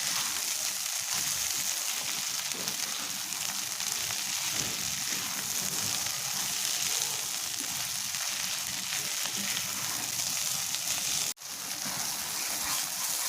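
Loitta dried fish frying in a pan while being stirred, giving a dense, steady hiss of sizzling oil that runs unbroken and loud throughout, with one brief dip near the end.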